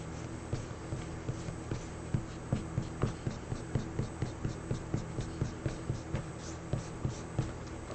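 A pencil drawing on paper is erased by hand with quick, rhythmic back-and-forth strokes. Each rub scratches softly and close at an even tempo, with no talking.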